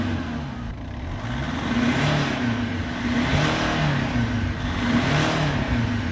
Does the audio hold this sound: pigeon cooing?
no